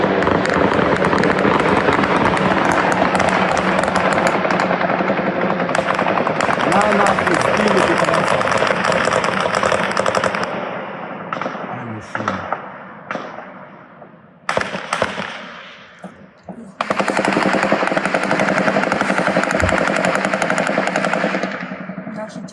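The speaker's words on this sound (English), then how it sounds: "Explosions echoing across neighborhoods while Russian air defenses scramble to shoot them down" Rapid bursts of air-defense gunfire and explosions echo over residential neighborhoods of Moscow during a drone attack, loud and dense, then choppier with gaps and sharp single bangs, with voices talking over the din.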